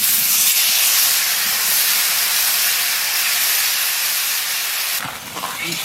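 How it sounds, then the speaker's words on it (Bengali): Water poured into a pan of frying potatoes sets off a loud, continuous steam hiss that dominates for about five seconds before abruptly dying away into quieter bubbling. "আলু ভাজা হয়ে গেছে, এবার জল দিয়ে দেবো।"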